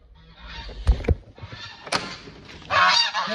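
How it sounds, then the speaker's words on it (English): Geese honk loudly and close at a door, several sharp honks in quick bursts, then a longer stretch of overlapping honking. "hear my geese at the door."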